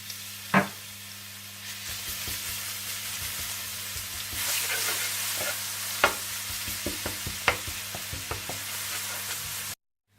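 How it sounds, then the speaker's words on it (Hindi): Crushed garlic sizzles steadily in hot oil, with scattered scraping taps of a spoon stirring, close up; the sound cuts off abruptly at the end. "इसमें आप पिसा हुआ लहसुन डालकर थोड़ा सा भून लें"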